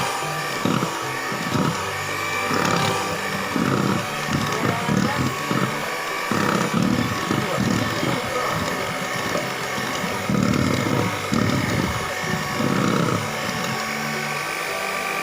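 An electric hand mixer whirs steadily through lapis legit cake batter, a loud, continuous motor drone with rhythmic pulses as the beaters work the bowl, running throughout without pause.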